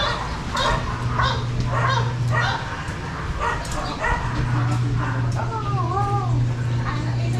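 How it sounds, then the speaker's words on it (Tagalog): American Bully dogs bark in repeated yips and woofs outdoors near brushy farmland, the barking steady through the clip with a constant hum underneath and some talk in the background. "Meron po silang mga alagang American Bully."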